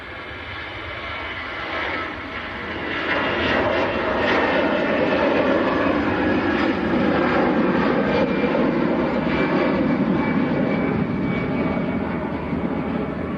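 A Pegasus Airlines Airbus A320 jet on its takeoff roll at Manchester Airport, engine roar swelling and then holding as a loud, broad sustained rumble heard from a distance, with no talk.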